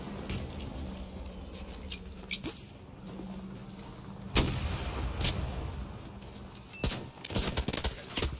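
Gunfire and a blast in a video game: a loud broadband burst around the midpoint, with sharp shots and crackling bursts scattered before and after over a steady background din, and no talk.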